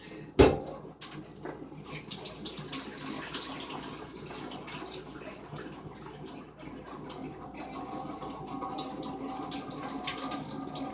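Water poured out of a cooking pot past a lid held slightly ajar, a steady close splashing stream running throughout after a sharp initial clank of metal.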